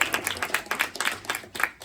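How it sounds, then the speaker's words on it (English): An audience claps at a community meeting in a conference room, a short burst of applause from a small group, fairly close, with uneven overlapping claps. "So give her a round of applause."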